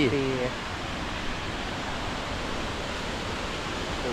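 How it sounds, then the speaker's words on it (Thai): Tad Champee waterfall in Laos roars nearby as a dense, unbroken rush of falling water. A brief voice is heard at the very start. "น้ำตก"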